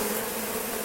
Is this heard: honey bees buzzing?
yes